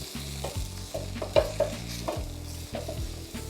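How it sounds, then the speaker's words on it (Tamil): Ginger, garlic, cumin and black pepper tempering in a sambar pan, a close crackling sizzle under rhythmic scraping strokes of a spoon against the metal, no talk. "இஞ்சி, உள்ளி, சீரகம், மிளகு இதையும் போட்டு தாளிப்போம்"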